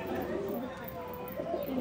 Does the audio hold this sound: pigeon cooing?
yes